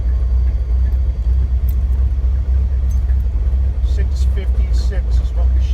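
A 1955 Beechcraft Bonanza F35 piston engine idling during a run-up: a loud, steady low throbbing drone that continues throughout, while a person talks over it.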